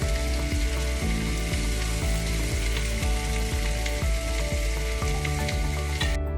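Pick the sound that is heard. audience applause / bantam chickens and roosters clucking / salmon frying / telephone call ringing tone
salmon frying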